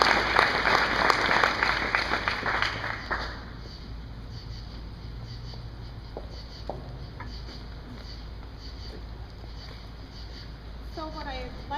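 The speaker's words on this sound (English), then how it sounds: "Let's give her a big round of applause, everybody." Audience applause for a speaker at a design presentation, a burst of clapping for about three seconds that stops abruptly, followed by quiet room tone with faint scattered sounds.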